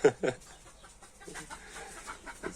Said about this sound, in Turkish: Yok şu an horozları kovalıyor.